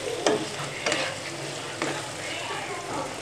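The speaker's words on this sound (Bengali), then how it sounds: "খুব নাড়াচাড়া দিয়ে 5 মিনিট কষিয়ে নিচ্ছি।" Potatoes sauté in a pan, sizzling steadily while a utensil stirs and scrapes them in a few distinct strokes, close and fairly loud, with no talking.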